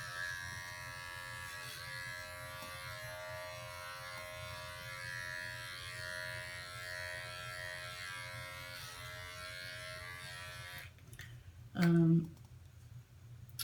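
Electric clippers with a 1/8-inch blade trimming a dog's coat, humming steadily and quietly for several seconds. A short louder clicking buzz follows near the end, and a voice talks faintly.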